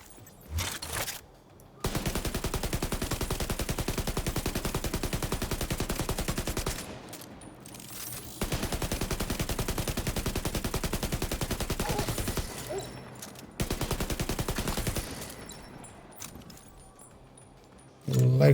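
Sustained bursts of video game gunfire fill most of the clip, loud and dense, with two brief pauses between long volleys and a quieter tail at the end.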